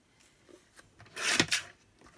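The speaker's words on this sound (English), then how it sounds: "I'm really just cutting with my cutter" A craft cutter trims the edges of paper for a mini sketchbook, giving a short, close rasping scrape with a louder burst in the middle and quiet handling around it.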